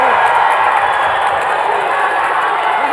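A large indoor arena crowd at an esports football tournament in Riyadh roars and cheers continuously, a dense, loud wash of voices that stays steady throughout.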